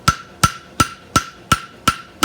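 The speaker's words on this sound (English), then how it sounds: "I'm going to use the edge of the hammer," The edge of a hammer striking metal, seven sharp evenly spaced strikes, each with a bright metallic ring that quickly fades.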